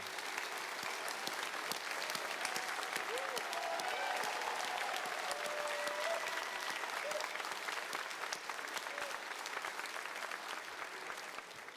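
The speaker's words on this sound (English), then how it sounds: "Would you please give them a round of applause?" Audience members at the U.S. Astronaut Hall of Fame induction ceremony applaud astronaut scholarship recipients, a long, even, moderately distant wash of clapping with faint crowd murmur underneath.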